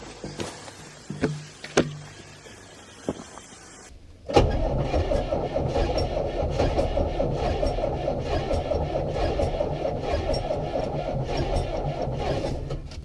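A few clicks and rattles, then an Atlas 1302 excavator's heavy diesel engine, jump-started with a booster pack, cranks and fires up, settling into a loud, steady chugging rumble close by.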